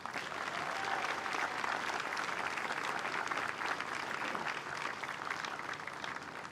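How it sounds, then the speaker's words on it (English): An outdoor park concert crowd applauds the US Army Jazz Ambassadors band with a sustained, even wash of clapping that stays steady for several seconds at a moderate, slightly distant level. "How about a round of applause for the band,"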